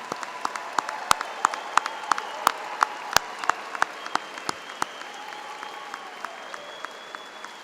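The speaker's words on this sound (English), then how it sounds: "Let's give them a big round of applause." Applause for graduates at a university commencement ceremony, a dense spread of clapping from a large crowd with sharp individual claps standing out close by in an irregular rhythm, gradually thinning toward the end.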